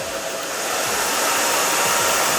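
A handheld blow dryer blasts air over a short curly pixie haircut as it is moved back and forth, a close, continuous whooshing hiss with no talking.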